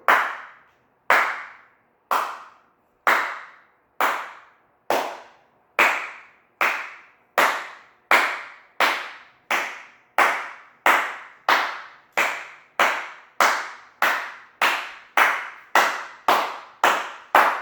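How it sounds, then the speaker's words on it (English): A PE class claps hands loudly in unison, sharp single claps at an even pace of roughly one per second, each crisp and close, repeated about twenty times with no talk. "Let's start this class by clapping our hands."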